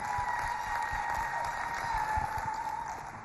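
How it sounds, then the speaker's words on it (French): A crowd at the Pan-African Parliament claps steadily for the newly elected president of the women's caucus, a continuous wash of moderate applause that fades slightly at the end. "Applaudissez aussi pour elle,"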